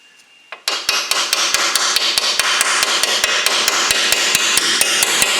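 Sharp, regular hammer blows on a socket being driven onto a cotter pin on a Subaru Crosstrek during ball joint work, loud and close, roughly three strikes per second after a brief quiet start, with no talking.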